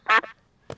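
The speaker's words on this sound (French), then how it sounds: "Pardon petit canard." A cartoon duck gives a quick, close double quack, followed by a shorter third quack after a brief pause.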